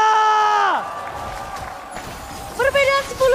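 An esports crowd at an MPL Indonesia final cheers and applauds during a Geek Fam match, a broad roar underneath a loud commentator's voice.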